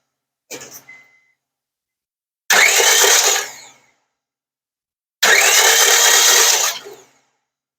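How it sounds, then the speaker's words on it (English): A 2005 Honda Civic with a 1.7-litre D17A1 engine cranks without starting: one brief starter blip, then two loud sustained cranking bursts of about one and a half seconds each, separated by silence. "You want to crank it just for a couple of seconds."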